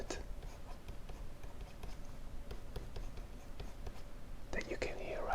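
A stylus scratching across a drawing tablet in an ASMR fantasy drawing session, steady soft strokes close to the mic, quiet and continuous, with whispering in the background.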